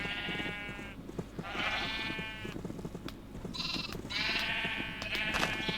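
Sheep bleating in Minecraft, several drawn-out bleats in succession, loud and clear over a busy background of clicking game sounds.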